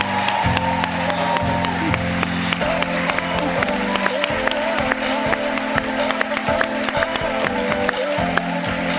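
An audience at a corporate innovation keynote bursts into a round of applause for an award, with dense, sustained clapping throughout and a voice talking over it.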